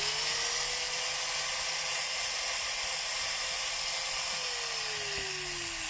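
A DeWalt DW810 4-inch angle grinder runs continuously up close, giving a steady high motor whine over constant airy hiss, its pitch sagging slightly near the end.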